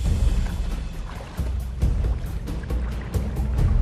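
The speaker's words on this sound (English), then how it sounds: "The hippos stampede in panic." Hippos stampeding through river water, heavy churning splashes and low surging thumps in a loud, continuous rush, with repeated pounding bursts of water throughout.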